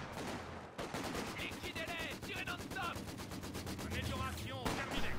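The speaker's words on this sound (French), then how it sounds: "Tire de petit calibre" Rapid bursts of small-calibre gunfire in a real-time strategy video game match, fast rhythmic rattling shots repeated across the clip with electronic weapon tones mixed in, busy and continuous.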